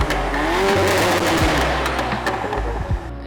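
A VW MK8 GTI with a catted downpipe, stock resonator and Club Sport muffler, its loud exhaust roaring steadily near the microphone with tire squeal and low engine surges throughout.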